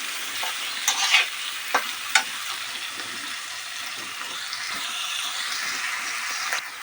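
Potatoes sizzle in a pan while a utensil scrapes and stirs them in several distinct strokes over a continuous frying hiss.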